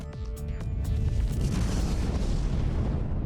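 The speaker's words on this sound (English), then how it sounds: "A nuclear explosion." Nuclear explosion sound effect: a deep rumbling boom with an initial crackling burst that swells into a sustained low roar, loud and alone.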